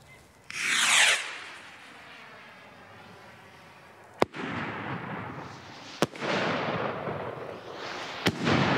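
A firework rocket launches from a rocket rack, whooshing upward with a rising hiss, then a steady crackling rush follows, broken by three sharp pops spaced a couple of seconds apart.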